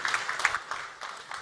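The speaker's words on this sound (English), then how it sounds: "Let's give him a round of applause" Light applause rises from the audience at a cybersecurity forum in Moldova, a soft, fairly distant patter of hands lasting just over a second.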